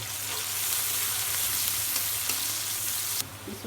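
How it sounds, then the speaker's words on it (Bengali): Onions sizzle steadily in hot oil in a kadai while a bitter gourd stir-fry is being started, a continuous close frying hiss with small crackles throughout and a slight shift near the end. "উস্তে চচ্চড়ির জন্য তেলের উপরে পেঁয়াজ দিয়ে দিব।"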